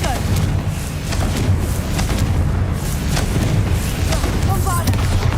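Bombarda and Confringo explosion spells in Hogwarts Legacy, heard as repeated booming blasts over a dense, rumbling game soundscape, with shouted voices throughout.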